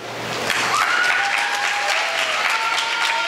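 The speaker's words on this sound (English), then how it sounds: "Let us give Anastasia Burris another round of applause." Strong, sustained audience applause after a primary school performance at a Trinidad and Tobago festival preliminary, continuous dense clapping close and loud with a faint whistle-like tone rising over it.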